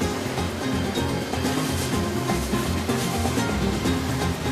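Sea waves wash and splash around a small boat off the Dominican Republic, a dense, continuous roar of water and wind with no clear speech.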